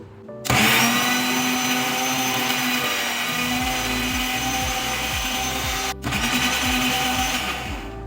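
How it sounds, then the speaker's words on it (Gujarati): An electric blender crushes a chilled pani puri paste mixture of herbs and ice-cold water, starting abruptly with a loud, steady whirring drone, briefly cutting out, then running again at full power. "અને હવે આ જે મિશ્રણ છે એને આપણે ક્રશ કરી લઈએ"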